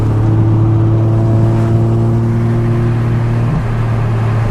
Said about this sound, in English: the only sound you need to hear is that exhaust.